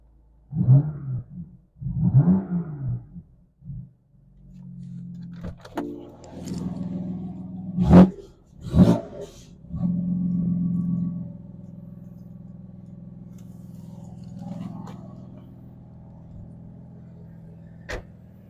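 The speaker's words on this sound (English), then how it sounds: "Let's give it a little rev. Put in sport." A BMW M4 in sport mode, heard from close by with voices talking at the start, gives a few quick sharp blips of revving, then settles into a low, steady engine hum with small fluctuations.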